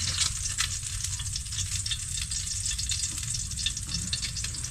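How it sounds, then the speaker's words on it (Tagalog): Eggs frying in a pan for a home breakfast, a loud, steady crackling sizzle running the whole time with occasional sharper pops, close up and without talk. "pa isa-isa natin piniprito para maiba naman"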